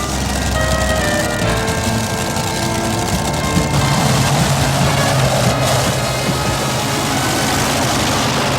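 A Massey pulling tractor rolled out at a 1987 tractor pull in Fort Wayne: a loud, continuous heavy engine drone with a deep low rumble, steady throughout.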